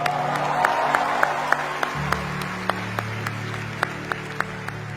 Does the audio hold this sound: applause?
yes